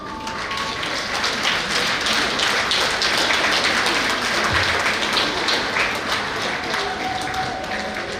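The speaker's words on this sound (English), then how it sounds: "We should all give a huge round of applause to all these great souls for their dedication." A large audience at a medical academy founders' ceremony applauds the honoured founders with steady, dense clapping. It stays loud and even the whole way through.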